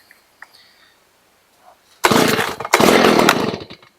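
A Stihl BG85 leaf blower engine fires up after near silence and a few faint clicks, roaring loudly close by, briefly cutting out, then revving again before easing off.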